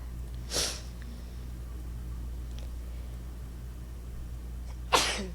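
Two sharp sneezes, about four seconds apart, break a quiet background.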